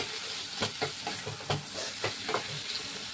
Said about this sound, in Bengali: এটা আমি এই খুন্তি দিয়েই ভেঙে ভেঙে এইভাবে করে দেবো